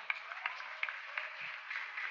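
Steady applause from a crowd at a documentary festival awards night, a continuous patter of many hands clapping at moderate volume with a few sharper claps standing out.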